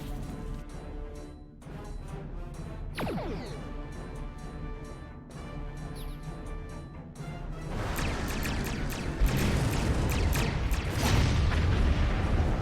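Game weapons fire on a target in a Star Trek PC space game: booming, explosive blasts with a rising sweep near three seconds, then a dense roar of impacts and bursts building loudly from about eight seconds under steady game sound.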